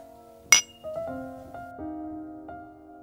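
Drinking glasses clink once in a toast, a single bright, sharp ring that fades, followed by soft sustained tonal music in a quiet indoor scene.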